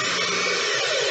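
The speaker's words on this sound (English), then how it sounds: "Before I get started adding the screws, I'm gonna go ahead and put some pilot holes in." A power drill boring pilot holes into a wooden queen-size bed frame, one loud, steady whirring burst up close, with no talking.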